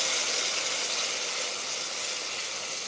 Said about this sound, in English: You're hearing sizzle now